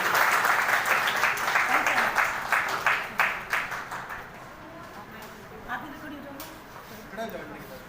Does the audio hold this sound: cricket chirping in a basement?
no